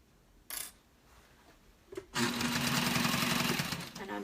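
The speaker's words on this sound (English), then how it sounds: "I'm just sewing along, trying to keep it as flat as possible" A sewing machine stitches fabric after a couple of brief clicks, then runs in a close, continuous whirring rattle for about two seconds, with no talking over it.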